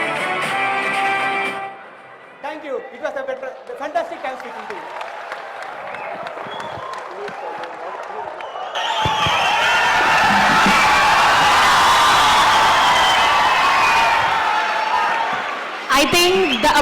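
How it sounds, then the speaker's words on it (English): An audience at a national conference for chartered accountancy students bursts into loud, sustained applause with cheers and whoops about halfway through, following a stretch of talking and quieter murmuring near the start. "I think the applause says it's all."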